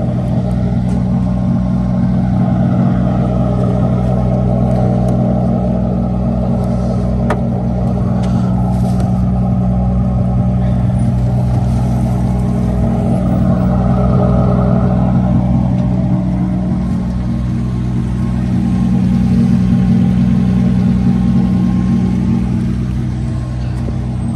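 A BMW E36 fitted with a 1.5JZ engine runs at idle, giving a loud, steady, deep rumble that holds throughout with slight swells in intensity.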